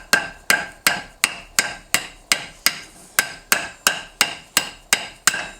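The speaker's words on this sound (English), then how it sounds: "each time you hit it, it enlarges the ring itself" A hammer strikes a punch to stretch a coin ring on a mandrel, ringing metallic blows in a steady, even rhythm of about a dozen close, sharp hits with no speech.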